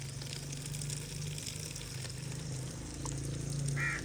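Water runs from a pipe in a Pakistani village with weak flow, a steady gushing wash with a low droning hum underneath, continuous and fairly close, with no speech.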